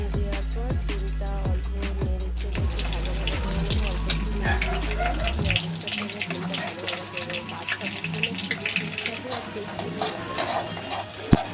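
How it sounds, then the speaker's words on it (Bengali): Egg and a little onion frying together in a hot wok, a close sizzle with stirring scrapes, bursts of low thumps early on, then a steady crackling fry. "ডিমটা পেঁয়াজের সাথে ভাজা ভাজা করে নিচ্ছি ভালো করে"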